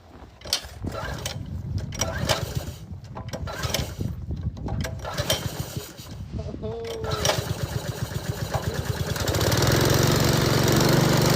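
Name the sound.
roofing air compressor engine running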